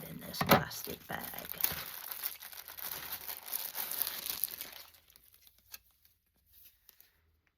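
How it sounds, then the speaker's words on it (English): A plastic bag crinkles and rustles steadily for about five seconds as an item is pulled out of it, close up, then it goes quiet with a few faint handling clicks. "Let me take it out because I'm not going to keep it in this plastic bag."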